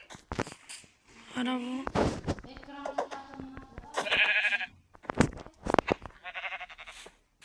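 Sheep in the Minecraft video game bleat in several short, nasal calls spread across the clip, mixed with someone talking and a few sharp game clicks.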